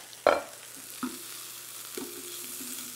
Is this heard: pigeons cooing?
no